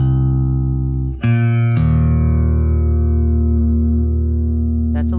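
A Waves Kaleidoscopes modulation effect colours a sustained, ringing tone with a gentle wobble. After a brief dip near the start, a new chord rings out loud and steady to the end.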